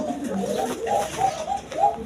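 A female Rajgola pigeon coos in a few soft, repeated rolling calls, close by, with faint background noise.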